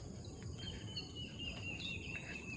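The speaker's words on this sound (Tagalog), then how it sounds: "Ang maririnig mo dito yung mga ibon." Birds sing faintly in morning countryside in Northern Iloilo, thin high whistled calls drifting over a soft hiss of background noise, with no talk.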